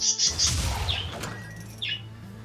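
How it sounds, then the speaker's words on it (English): Birds chirp and tweet in short bright calls, a little distant, over a low background hum, with a brief clatter early on. "they can also hear the birds outside"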